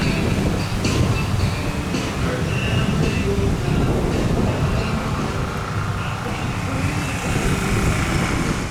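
A loud, continuous rumble of a train rolling past close by at a boardwalk by the bay, dense low roar with metallic rattling throughout, no voices.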